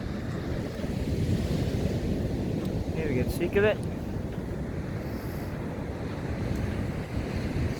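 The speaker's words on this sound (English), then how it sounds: "Look at the ocean." Ocean surf rolls onto a beach in a constant, loud wash, mixed with wind noise on the microphone, while someone speaks briefly over it.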